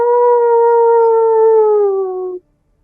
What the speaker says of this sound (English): As this werewolf just howls.